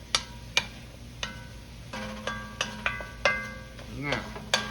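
A utensil scrapes browned bits from the bottom of a pot of onions for a smothered beef crown roast, with a series of sharp clinks and scrapes over a low sizzle, close by.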